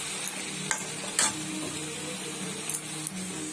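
Papaya and potato ghonto cooking in ghee with garam masala, a soft steady sizzle close by with occasional light clicks of a utensil stirring the pan.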